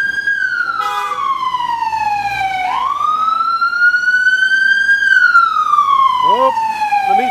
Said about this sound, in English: Got the sirens going.